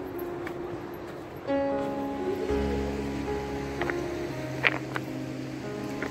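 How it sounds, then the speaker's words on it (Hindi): The Swat River in Swat Valley, Pakistan, flows past as a steady broad rush of water, heard close with a low droning hum running through it and no speech. "ये जी दरिया सवात का पानी, यहाँ से बहता हुआ आगे जा रहा।"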